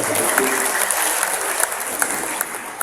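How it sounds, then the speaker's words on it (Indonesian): An audience at an English teachers' forum opening applauds the head of the education office, a steady, moderately loud wash of clapping with scattered sharper claps and faint voices underneath. "tepuk tangan untuk Pak Kadin kita ya"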